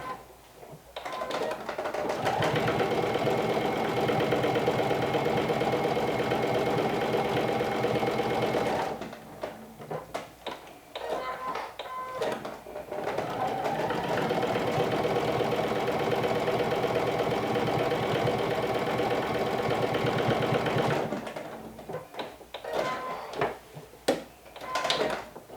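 A sewing machine stitches fabric in two long, steady runs of rapid mechanical whirring, each lasting several seconds, separated by brief pauses filled with quiet handling clicks; no one speaks.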